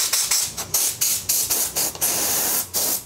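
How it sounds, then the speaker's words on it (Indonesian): A compressed-air hose from a reel set blows air to clean off dirt, about a dozen short, loud hissing bursts fired in quick, uneven succession with brief gaps between. "coba kalau kita semprotkan ini, oh langsung bersih dia"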